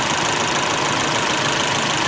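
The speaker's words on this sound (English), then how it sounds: "this engine sounds like crap when it's idling, like a garbage disposal" A 2017 Fiat 124 engine idles with a steady, gritty, grinding drone, constant and close with no pauses.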